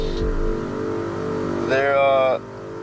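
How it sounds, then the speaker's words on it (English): Airlift 3P air suspension compressors on a G37x sedan whir steadily and loudly at close range, with a sharper whining burst in the middle of the clip. "that's another thing I wanted to show y'all is the compressors"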